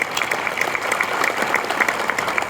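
Breakfast audience at the SEMA 2024 kickoff in Las Vegas applauding judges and award winners, a continuous, fairly loud patter of many hands clapping together.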